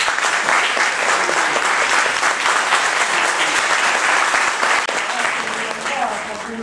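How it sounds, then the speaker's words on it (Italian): Warm audience applause greets Rosaria Iazzetta at an event in Palagiano, with dense, steady clapping that holds loud and close for several seconds before easing slightly near the end. "vi prego di rivolgere un caloroso applauso"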